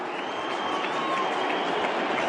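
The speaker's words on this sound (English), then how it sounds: "You hear the Bruce cries from the Hawthorn cheer squad behind the goals." Hawthorn cheer squad behind the goals at an Adelaide v Hawthorn AFL match crying out after a goal, a steady roar of crowd noise and drawn-out chanting, loud and continuous throughout.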